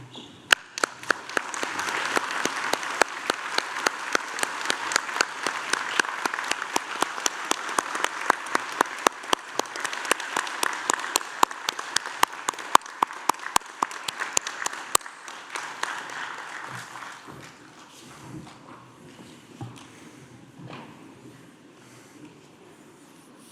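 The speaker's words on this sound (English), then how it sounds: "join me in applauding their wonderful achievements" Audience applause at a university graduation ceremony, sustained clapping from a large crowd with sharp individual claps standing out, lasting about fifteen seconds before thinning out and fading into a quieter room.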